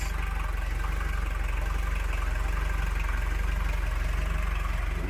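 Boat engine idling steadily with water spitting from the exhaust, a continuous loud low throb with a regular pulsing beat, close and unbroken throughout.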